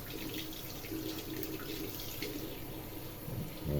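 A tap runs steadily while rinsing an aluminium part being chromed, a constant close splashing rush of water with no voices.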